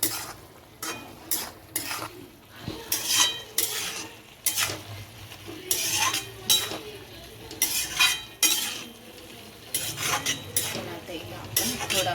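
A spoon scrapes and clinks rhythmically in a pan of mung dal and safflower greens, repeated stirring strokes over a light sizzle, close and clear without speech.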